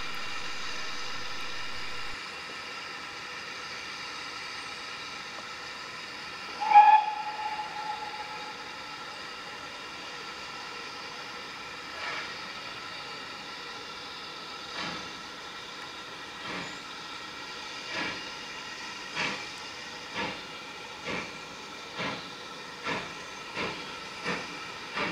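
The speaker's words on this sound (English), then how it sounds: "now our Minehead bound train will also leave Crocombe Heathfield station." Steam train pulling out of Crowcombe Heathfield station on the Minehead line, opening with a sharp whistle blast, then a steady hiss and a chuffing exhaust beat that quickens and grows louder.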